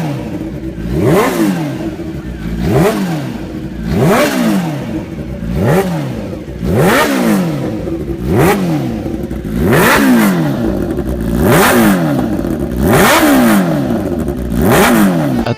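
A Kawasaki H2F supercharged motorcycle engine, sharing the H2R's motor, revs hard again and again in a steady rhythm of about nine loud, rising and falling bursts, close and alone with no talk.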